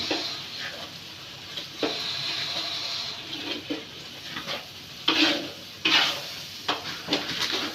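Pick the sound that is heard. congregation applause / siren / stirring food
stirring food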